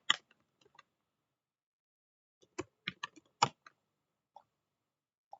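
Typing on a computer keyboard during GIS software training, heard as scattered bursts of sharp key clicks with quiet pauses between them, no talk.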